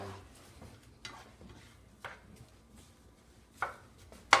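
A spoon stirs chopped onions and peppers in a pot, with soft scraping and a few sharp knocks against the pot at irregular intervals, quiet and close with no talk.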